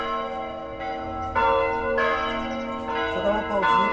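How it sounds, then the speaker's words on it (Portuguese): Church bell ringing right beside the church, repeated loud resonant strikes with long overlapping hum and decay, close and dominant, steady tolling rhythm throughout. "O sino aqui parou da igreja"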